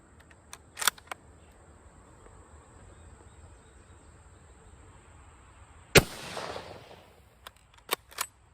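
Surplus 8mm Argentine/Ecuadorian rifle ammunition fires in one loud, sharp shot that rings out and decays over about a second, followed by a few faint clicks and ticks in an otherwise quiet outdoor setting.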